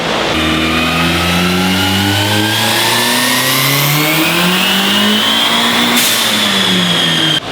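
A turbocharged Honda CRX engine with a swapped cam revs hard on a dyno, climbing steadily in pitch through a long pull, loud and close, then cuts off abruptly near the end.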